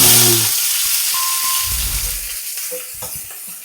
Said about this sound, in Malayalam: ചൂടായിട്ടാ സവാള ഇട്ട് കൊടുക്കാം